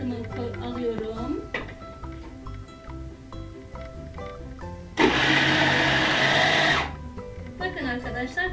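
A Fakir Vienta blender with a grating attachment shreds onion in a loud, bright whir lasting about two seconds, set between stretches of Turkish speech.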